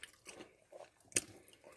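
Someone bites into a crunchy homemade onion bhajee and chews, making a few soft, close crunches with one sharper crack partway through.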